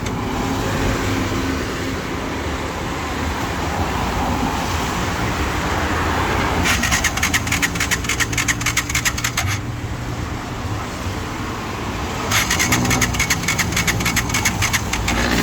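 A motorcycle engine churns and runs on a wet, rainy road, with steady mechanical noise and two bursts of rapid buzzing rattle from the starter, without any talk.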